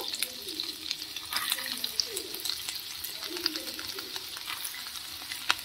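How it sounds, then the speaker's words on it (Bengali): Chopped ginger and garlic fry in a pan with a steady, bright sizzle and soft stirring scrapes throughout, with a voice faintly in the background. "তো প্রথমে আমি আদা রসুন কুচি দিয়ে একটু ফ্রাই করে নেব।"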